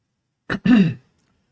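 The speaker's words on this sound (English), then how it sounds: "Let me clear my throat." A single short, close throat clearing in two quick bursts, followed by silence.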